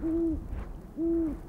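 A great horned owl gives two deep, resonant hoots about a second apart, close and clear against a quiet boreal forest background.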